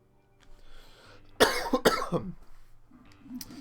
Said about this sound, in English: my cough is still in existence